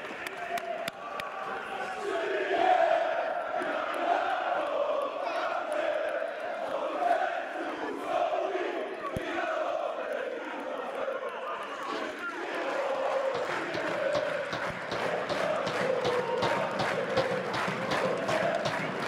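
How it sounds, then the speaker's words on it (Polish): Crowd at a Polish football match between Stomil Olsztyn and SEMP Warszawa applauding at the final whistle, a steady dense wash of clapping and cheering that swells in patches and stays loud throughout, with voices mixed in. "W tym punkcie brawa, kochani, brawa."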